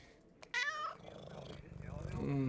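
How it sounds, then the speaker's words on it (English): A cat gives a short, bright meow, then a second, lower drawn-out call a moment later, both fairly faint against a quiet background. "A cat. I love cat."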